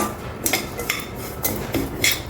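A metal spoon scrapes and taps against a kadai as fried wheat semolina is scooped out onto a plate, making four or five distinct scraping clinks at a steady rhythm, close and fairly clear.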